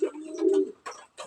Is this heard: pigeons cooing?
yes